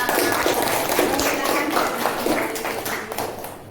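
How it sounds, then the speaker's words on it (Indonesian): A group applauds, with dense, continuous clapping that holds steady and then fades slightly toward the end. "Beri aplausnya untuk teman-teman kita."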